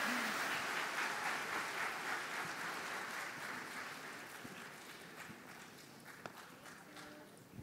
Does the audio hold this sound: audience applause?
yes